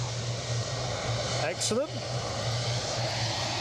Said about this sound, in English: We have a KLM from Amsterdam coming in.